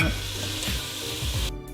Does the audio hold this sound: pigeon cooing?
no